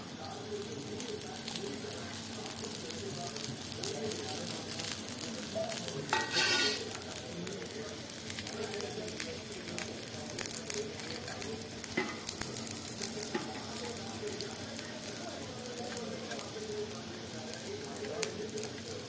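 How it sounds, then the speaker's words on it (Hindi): Onion sizzling in oil on a tawa while making egg chowmein dosa, a faint continuous frying hiss with a pigeon cooing in the background and a voice speaking over it. "अब तवा में तेल दे चुके हैं, अब ये प्याज"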